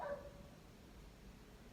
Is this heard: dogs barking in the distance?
yes